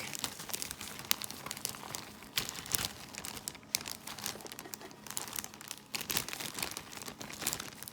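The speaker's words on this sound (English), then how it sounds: "I'm gonna just crumble the bread up in this bag." Bread being crumbled by hand inside a plastic bag, a continuous close crinkling and rustling of plastic with soft crunching bursts, alone without talk.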